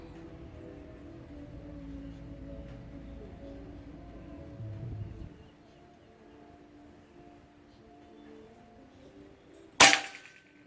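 A PCP Bocap Pajero Gen 5 air gun fires a VS Dome pellet, giving a single sharp crack near the end. Before it there is a long stretch of quiet background hum.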